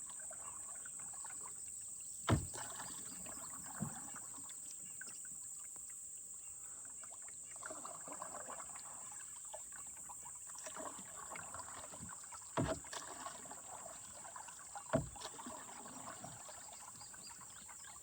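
Canoe paddling on Cedar Creek: a few sharp knocks and splashes of paddle strokes stand out against a steady outdoor background with a high insect-like whine and soft trickling water, no talking.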